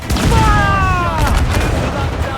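Ship cannon volley in Assassin's Creed IV Black Flag: a loud, rolling broadside of booming shots fired together, with a short whistling sound and a dense rumble from the battle at sea.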